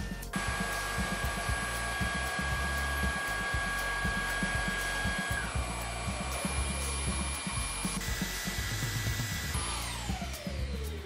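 A cordless stick vacuum cleaner with its main brush attached runs on a fully charged battery, giving a steady, loud motor whine with a high tonal hum that shifts in pitch and intensity near the end.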